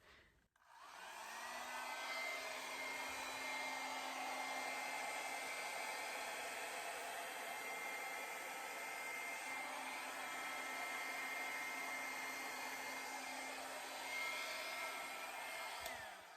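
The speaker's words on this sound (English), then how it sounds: "Never know what I'm doing with that hair dryer." A hair dryer blows steadily across a three-color acrylic paint pour, a continuous close airy roar that starts after a brief pause and holds for about fifteen seconds, with no talking.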